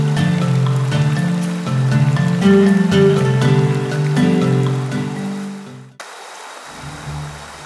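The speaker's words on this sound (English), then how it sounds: "There are so many beautiful waterfalls here." A waterfall at Tamyai cave in Thailand rushes with a steady, broadband wash of falling water, partly under music at first and then heard alone near the end.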